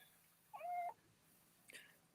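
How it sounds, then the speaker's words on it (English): A cat gives a short faint meow indoors, followed a moment later by a brief second faint squeak, both quiet and distant over low background hum. "I can hear the kitty cat even."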